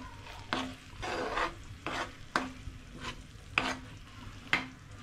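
A spoon stirs spice paste into frying onions in a pan for an egg lababdar curry, making rhythmic scraping strokes roughly once a second over a soft sizzle, close and clear.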